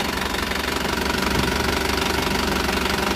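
The engine of a 2018 Isuzu Elf Giga bus with Adiputro bodywork runs steadily at idle, close and loud, with a constant rhythmic knocking rattle and no talk.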